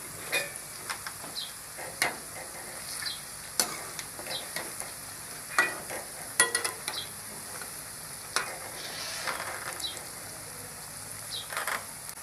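Pumpkin pakoras frying in oil after being flipped, a soft, fine sizzle under scattered clinks and scraping stirs from a utensil against the pan, with occasional sharper taps and no speech.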